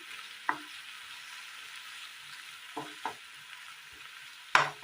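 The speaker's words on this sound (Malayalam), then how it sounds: "ഇനി ഇത് നന്നായി ഒന്ന് വഴറ്റിയെടുക്കാം." Chopped peeled tomatoes with salt sauté in a pan with a soft, steady hiss, broken by a few sharp clinks from the stirring spoon.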